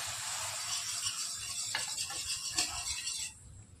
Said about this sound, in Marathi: हे पूर्ण व्यवस्थित हलवून घ्यायचं पटपट पटपट.